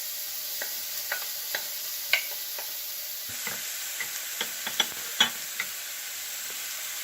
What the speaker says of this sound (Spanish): tengo el sartén con los ajitos picaditos y voy a sofreírlo